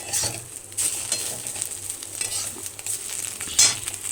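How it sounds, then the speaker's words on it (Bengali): Egg frying in a pan in a home kitchen, a steady close sizzle with light stirring scrapes and a brief louder clatter near the end, no talking. "তো ডিম ভাজা হয়ে গেছে"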